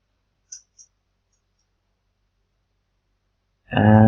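Two quick computer mouse clicks land close together in near silence, followed after a pause by a person starting to speak.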